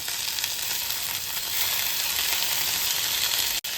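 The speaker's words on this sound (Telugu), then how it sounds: "అన్నీ వేసి వీటిని కూడా వేయించాలి" Vegetables and hand-crushed terrace-garden tomatoes for a vegetable pulav with semiya fry in a pan, giving a loud, continuous close sizzle that barely changes and cuts off abruptly near the end.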